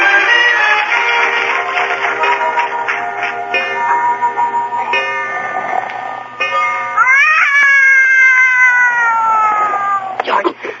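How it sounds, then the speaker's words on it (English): Several cats yowl and caterwaul in long, wavering drawn-out cries that overlap, loud and close, with a few sharp ticks. "Did you wake me up so I could listen to that cat concert?"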